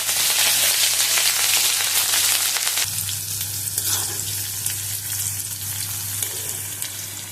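Green chillies fry in hot oil in a pan, starting with a loud, dense crackling sizzle that drops to a softer, steadier fry under a low hum.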